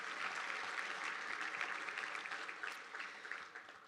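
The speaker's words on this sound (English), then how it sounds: "Let's give the town a great big round of applause." A roomful of people applauding at a town economic outlook event, sustained clapping that holds steady and then tapers off slightly toward the end, heard without any voices.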